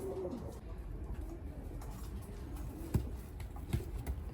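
Pigeons coo softly in a loft, with low burbling calls running on and a few light thumps and pattering sounds scattered among them.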